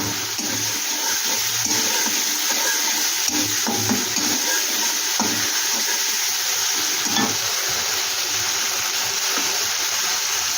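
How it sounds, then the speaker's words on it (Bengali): Papaya curry (pepe muitha) stirred and fried in oil in a pan, with a steady sizzle and scraping stirring strokes running throughout, close and fairly loud, no voices. "এটাকে এবার একটু আমি ভালো করে কষিয়ে নেব তেলটা থাকছে বেশ সুন্দর"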